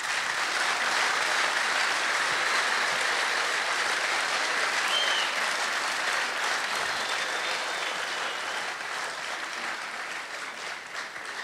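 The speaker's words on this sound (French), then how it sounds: "Est-ce que vous pouvez applaudir également les hommes?" Concert audience in Brazzaville applauding the tenor and bass singers, a dense, steady wash of clapping from a large crowd that holds loud throughout and eases slightly toward the end.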